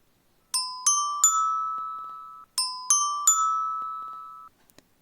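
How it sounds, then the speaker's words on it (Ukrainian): A bright little bell chimes in a quick three-note ding-ding-ding pattern, rings out, then repeats the same merry phrase once more. "Хм, щось дуже весело дзвонить цей дзвоник."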